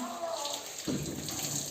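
Water pours from a tap into a baby's bath, a close splashing rush that intensifies partway through and continues to the end. No one speaks.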